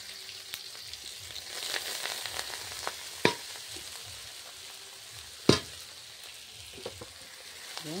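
Leafy greens frying in a pan, a steady soft sizzle with a few sharp stirring clicks and scrapes rising above it, close and alone without any talk.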